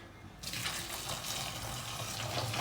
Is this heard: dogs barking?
no